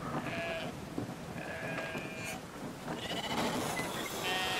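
Sheep in the video game Brothers: A Tale of Two Sons bleat repeatedly in long wavering calls over a dense, steady game soundscape.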